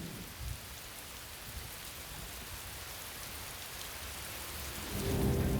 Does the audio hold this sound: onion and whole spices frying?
no